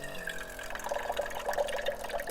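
Water runs from a rechargeable electric pump fitted to a water jug inside a camper van, a steady trickling stream with a faint pump whine, fairly quiet and heard alone.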